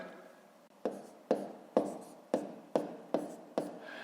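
Pen or chalk writing numbers for a fifth-grade maths multiplication exercise: seven crisp, evenly spaced taps and strokes, close and fairly quiet, with no talking.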